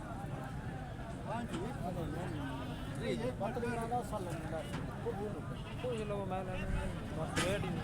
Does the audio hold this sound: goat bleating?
yes